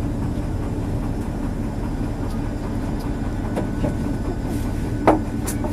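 Tire-Bouchon train on the Quiberon line rolling at limited speed, a steady low rumble of rail running with faint clicks and a brief sharp squeal near the end, no talk.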